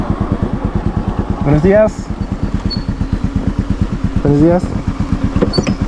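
Motorcycle engine idling steadily on a roadside in El Salvador, its regular low pulsing loud and close throughout, with a man briefly exchanging greetings over it.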